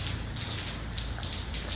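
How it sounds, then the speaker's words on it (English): Steady rain falling outdoors in Walterboro, South Carolina, a constant hissing patter that stays even and fairly close, with no voices over it. "It's been raining all day here"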